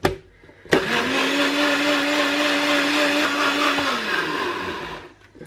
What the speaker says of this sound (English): And I've got my blender all set up,